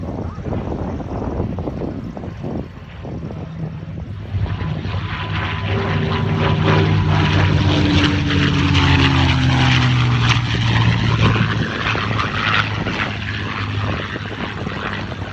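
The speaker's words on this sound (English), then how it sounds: "as we get another pass from Quicksilver, P-51 Mustang" A P-51 Mustang with a Rolls-Royce engine roars past, its engine drone swelling loudly and shifting pitch as it sweeps by, while a voice talks over it.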